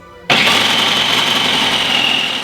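An electric grater grating cheese starts abruptly and runs as a loud, steady motor whir with a gritty shredding buzz, close and continuous until it winds down at the end.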